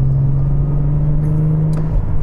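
An Infiniti G37 drives into a roundabout, heard from inside: a steady, loud engine drone with a strong low hum, holding an even pitch for about two seconds, with no talking.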